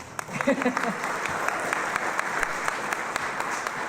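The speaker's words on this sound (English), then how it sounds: "Clap for Darcy" Audience clapping at a community annual meeting and apartment opening, a steady wash of applause that holds across the clip, with a voice briefly heard over it near the start.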